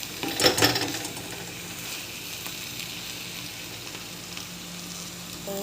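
Eggplant pieces hit hot oil in a pan for a mushroom dish, a burst of loud sizzling at first that settles into a steady, close frying hiss.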